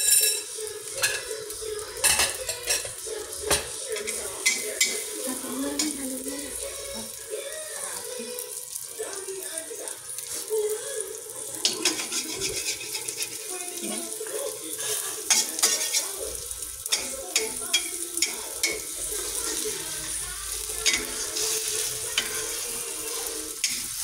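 Eggs with chili scrambled in a pan: a continuous soft sizzle with frequent scraping and clinking of a utensil against the pan, close by, with brief talking mixed in.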